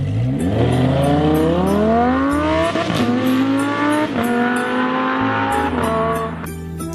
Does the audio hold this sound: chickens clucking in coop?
no